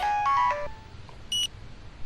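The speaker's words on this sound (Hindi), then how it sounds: "लगता है डैड का फोन आ गया" A short electronic phone ringtone melody plays first, a few stepped tones, followed by a brief higher chime, with quiet room noise around it.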